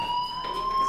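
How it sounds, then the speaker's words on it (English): A fire alarm in the game Life is Strange sounds as a steady, piercing electronic tone that holds loud and unbroken for the whole short moment, heard alone with no voices. "Hey, do you hear that fire alarm?"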